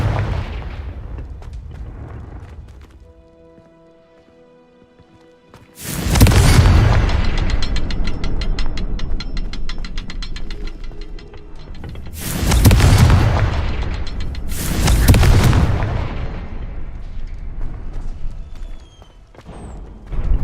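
Confringo fire spells in the video game Hogwarts Legacy set off three loud, booming explosions, one at a time, each with a sharp onset and a long rumbling tail, after a quieter stretch of ambient game sound.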